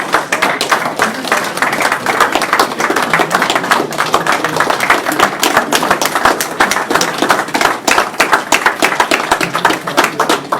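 A small audience at a cricket coaching tour event in Sacramento claps loudly and close, with sharp individual hand claps that are clearly distinct and keep a fast, irregular rhythm for about ten seconds.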